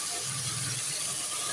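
Chicken hits a hot pan with a steady, bright sizzle that hisses evenly, up close and alone throughout the brief moment.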